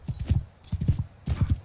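Horses gallop across a Mount & Blade 2 Bannerlord battlefield in three quick bursts of hoofbeats, close and fairly loud, with short pauses between them. No talking.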